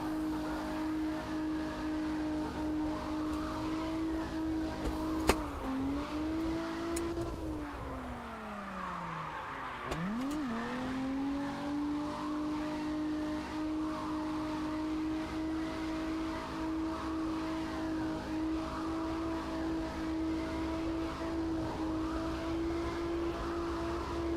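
Car engine in the drifting game CarX holding a steady high-revving drone against the rev limiter, with tire squeal and pitch dips as the car slides, continuous and loud throughout.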